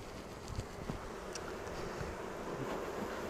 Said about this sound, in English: you can hear the bees changing now, can't you?